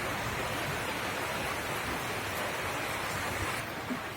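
Steady rain falls in a continuous, even hiss with no breaks over a few seconds, moderately faint and without any voices.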